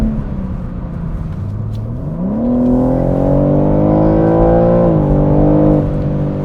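A 2021 BMW M3 Competition accelerates hard, its engine note climbing steadily in pitch with a brief dip as it shifts, then pulling again, loud and close with no talking.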